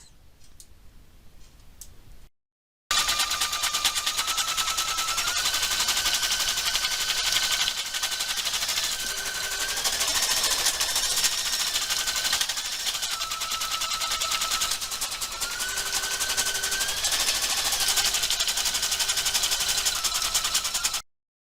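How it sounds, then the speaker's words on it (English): A Brother NV2700 sewing and embroidery combination machine stitching an embroidery design, a fast steady mechanical ticking and whirring that runs continuously at close range with slight shifts in pitch, preceded by a brief quieter moment. "So now I'm ready just to press the green button and start embroidering."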